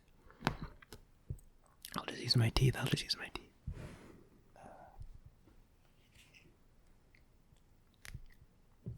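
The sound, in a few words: biting sewing thread with teeth instead of scissors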